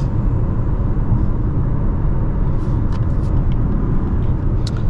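Steady broadband road and wind rumble from inside a moving 2024 Lexus RZ300e electric car as it picks up speed, with no engine note and faint clicks on top.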